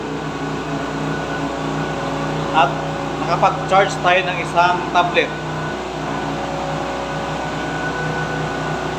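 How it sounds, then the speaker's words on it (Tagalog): A DAIDEN generator under test runs with a steady, close mechanical hum and drone, while someone talks over it in short bursts partway through. "So ito guys, itong generator, tinitesting natin."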